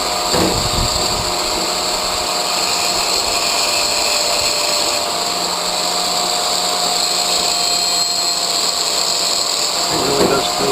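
Angle grinder with its guard fitted, cleaning metal before TIG welding riser pieces onto a firepit, a loud continuous high-pitched whine and grinding hiss running steadily throughout, close by.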